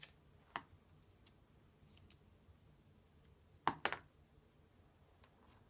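Quiet, sparse snips of scissors cutting paper, a few single cuts and a quick pair of snips close together.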